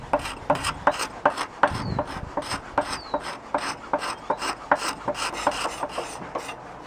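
A rasp files a yew longbow stave in quick, rhythmic strokes, each a sharp scraping burst repeating steadily and close up, with no voices.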